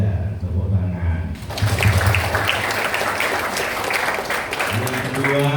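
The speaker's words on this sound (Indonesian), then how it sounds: "Tepuk tangan." A voice speaks, then loud audience applause erupts at a mental health talk show and holds for several seconds before the voice returns over the fading clapping.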